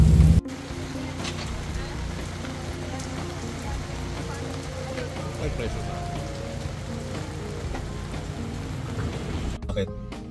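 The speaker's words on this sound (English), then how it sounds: "it is pouring rain" Heavy rain pours steadily at a Philippine rally stage start in Tarlac. It makes a dense, even hiss under faint voices and background activity.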